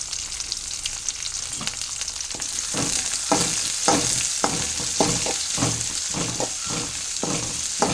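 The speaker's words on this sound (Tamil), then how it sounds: "அந்த பூண்டு எல்லாத்தையும் போட்டு அதில் கிண்டி வேக விடணும்" Onion and garlic sizzle in hot oil as a spoon stirs them, a constant bright frying hiss punctuated by regular scraping strokes against the pan, close and loud.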